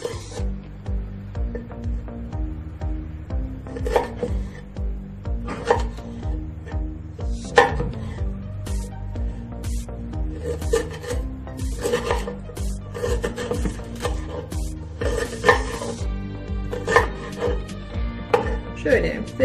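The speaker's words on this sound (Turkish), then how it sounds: "Bunu küçük parçalar halinde doğrayalım." Peeled ginger is chopped into small pieces on a board, knife strikes landing in irregular bursts under a steady musical background that carries throughout.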